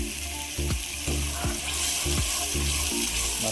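Ground masala paste sizzles in a pan with hot oil, a dense steady frying hiss broken by regular scraping strokes of a spoon stirring it, close and loud with no talk.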